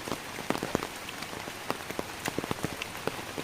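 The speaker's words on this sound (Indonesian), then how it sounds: "kalian bisa dengar tuh suara hujan" Rain falling in a countryside village, a soft steady hiss with scattered sharp drops pattering close by on a surface, quiet and without voices.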